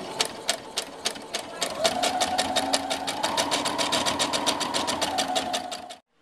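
A sewing machine stitches along the border of an applique bean bag in a fast, even run of needle strokes with a steady motor whine, close by, stopping abruptly at the end.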